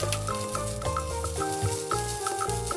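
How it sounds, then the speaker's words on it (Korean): Instant rice being stir-fried with oyster sauce in a pan for spicy crab fried rice, a close, steady sizzle broken by repeated scraping and clinking strokes of a utensil against the pan. "즉석밥을 넣고 섞어서 볶아줍니다."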